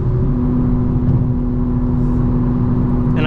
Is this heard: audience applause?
no